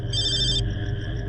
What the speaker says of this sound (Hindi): पपीता का फोन